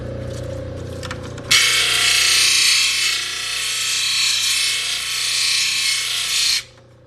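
Steady hiss of black opal being sanded on a 1200 grit wheel, starting abruptly after a quiet lead-in with a faint low hum, running evenly for about five seconds, then cutting off.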